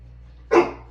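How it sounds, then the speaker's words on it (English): A pet dog gives a single sharp bark, close and loud against a quiet room with a faint low hum beneath. "That would be my dog"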